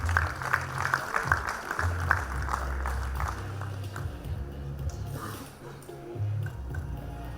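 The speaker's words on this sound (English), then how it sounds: "Put your hands together, give it a round of applause." Applause at a campus graduation ceremony: a crowd claps in a dense, steady patter throughout, easing off slightly near the end, over a low droning background.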